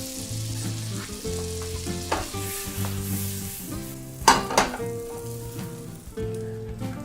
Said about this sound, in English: I'm going to add more butter to the pan, flip these over, and brown the other side